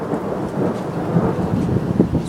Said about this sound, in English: It's raining. It's thundering.